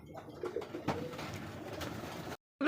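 Pigeons coo softly nearby, low throaty murmurs repeating over quiet background noise before the sound cuts off abruptly.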